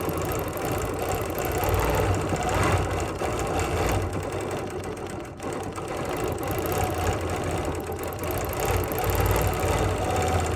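A sewing machine doing free-motion stippling on fabric, a fast, steady mechanical chatter running continuously up close, with only a brief dip midway.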